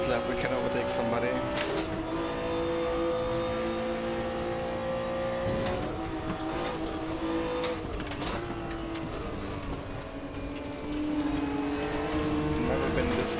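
Engine of a BMW M1 Procar race car in the RaceRoom racing game, a steady loud drone that rises and falls through gear changes for the whole stretch, with talking over it.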